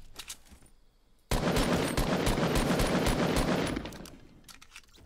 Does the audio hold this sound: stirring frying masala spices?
no